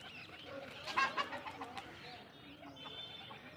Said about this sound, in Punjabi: ਹੁਣ ਦੋਵੇਂ ਕਬੂਤਰੀ ਡਾਤੀਆਂ